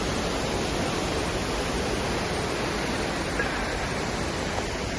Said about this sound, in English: so Zigzag Falls waterfall in the wintertime